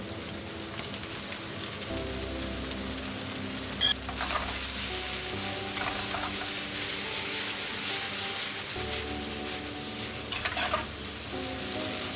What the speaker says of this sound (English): Add boiled pasta, mix.